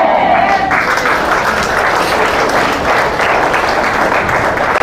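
Steady, dense applause from senior citizens at a church general assembly in Rizal, a broad continuous wash of many hands clapping that holds for the whole stretch, with a faint voice briefly audible at the start.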